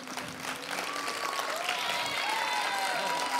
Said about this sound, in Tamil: கிளாப் கொடுத்துடலாம்.